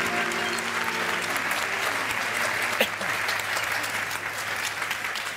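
Steady applause rolls from a studio audience on a Turkish talk show, a broad even wash of clapping with a low hum and brief tones underneath.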